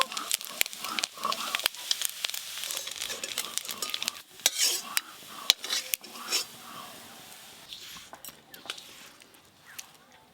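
A spoon scrapes and clatters against a pan while fried coconut pieces are lifted out of hot oil, giving dense irregular metallic clinks over a steady sizzle, close by, with a faint voice at times.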